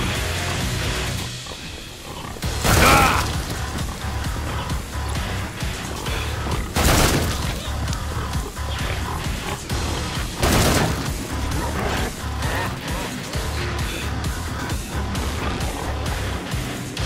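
Gunfire in the video game Killing Floor 2 during a Tidal Terror mission: three heavy, loud blasts spaced a few seconds apart over a dense, continuous bed of game noise and music.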